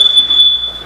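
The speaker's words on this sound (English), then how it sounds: "That's the smoke alarm." A piercing, steady high-pitched smoke alarm tone sounds loud and continuous, with no voices around it.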